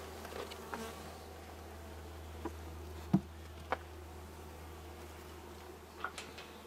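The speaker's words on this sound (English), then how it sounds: "And these are little female bees," Honeybee worker bees buzz in an open beehive during an inspection in Arizona, a faint, steady low drone with a few sharp clicks and taps scattered throughout.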